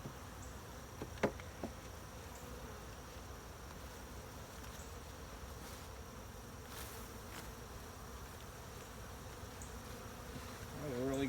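Agitated honeybees swarm from an opened hive during an inspection in hot weather, a steady dense buzzing drone that holds throughout, with a few sharp clicks and a louder burst of buzzing at the end.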